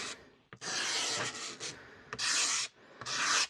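A tool dragged at an angle scrubs sticky goo off a Onewheel footpad sensor, giving several short rasping scrape strokes in bursts with brief pauses, close and fairly quiet.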